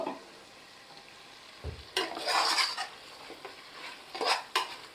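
Mutton pieces frying with masala in a pot for Vaniyambadi mutton biryani: a soft sizzle, then a brief low knock and a run of close scraping stirs and metal clinks, fairly quiet overall.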